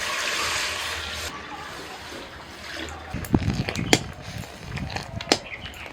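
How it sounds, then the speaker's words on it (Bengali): Milk is poured into a kadai holding a little water, giving a soft trickling, splashing pour that builds over a few seconds with some light clinks nearby. "কড়ার মধ্যে সামান্য একটু জল দিয়ে এবার দিয়ে দিচ্ছি আমি দুধ"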